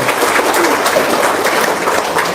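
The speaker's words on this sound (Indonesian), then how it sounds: "Tepuk tangan dong" A seated audience at a talk on paying off debt and earning trillions applauds on cue, giving a steady, dense wash of clapping that stays even and fairly loud throughout.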